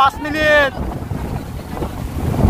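Strong gusty storm wind buffets the microphone in a steady roar, opening with a voice speaking briefly over it.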